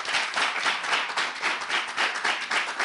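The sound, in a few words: audience applause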